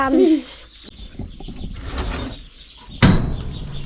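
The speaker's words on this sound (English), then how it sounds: "the ducklings, the sneaky little fast ducklings" Ducklings in a cage give a few short, close calls, one burst at the start and another near the end, with quieter shuffling between them.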